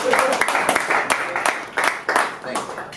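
A live audience at a comedy show gives brief, scattered clapping, a handful of sharp hand claps mixed with voices.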